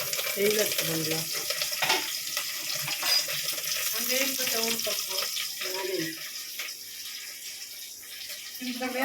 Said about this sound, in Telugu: ఇప్పుడు ఈ మిక్సీ పట్టిన మసాలా అయితే అందులో ఫ్రై చేస్తాము ఆయిల్లో